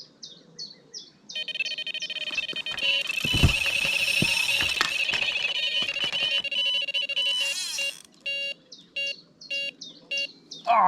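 A carp fishing bite alarm at a day-ticket brick pit sounds off as a rod rattles, with repeated rapid electronic beeps running continuously for several seconds, then breaking into short spaced bursts; loud and close, no talk.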